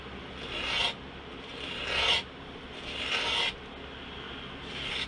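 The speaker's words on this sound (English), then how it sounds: "We just got to sand a little bit off of there." Wood rasps under hand sanding, a part for a wooden model ship of the Royal Sun, in four slow, close strokes with short pauses between.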